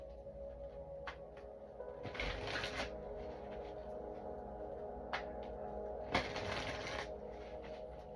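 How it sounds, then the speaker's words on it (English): Oracle cards are shuffled by hand in quiet surroundings, with two longer riffling bursts and a few short taps, fairly close and soft. "Just getting a good shuffle."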